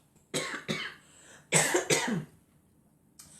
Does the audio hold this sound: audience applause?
no